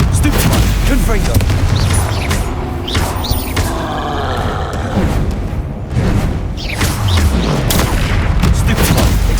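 Explosive spell blasts from the Hogwarts Legacy video game, a loud run of booming bursts and whooshes layered in dense combat noise, with shouted voices over the top.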